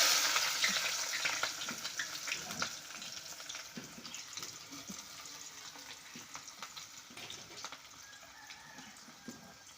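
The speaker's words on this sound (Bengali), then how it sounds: "দেখেন আদা, রসুন সব কিছু এখন ঢেলে দিব।" Ginger and garlic hitting a hot pan and frying, with a bright hiss that is loudest at the start and eases into crackling sizzle and occasional stirring taps.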